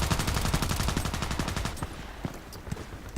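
Rapid automatic rifle fire in the video game Contract Wars, a fast, even string of loud shots for a second and a half, followed by scattered single shots and quieter game noise.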